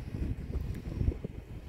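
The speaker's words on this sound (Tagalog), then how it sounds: "May hangin na, oh." Cold winter wind gusting outdoors beside a frozen pond in the snow, a steady low rumbling buffet across the microphone with no voices.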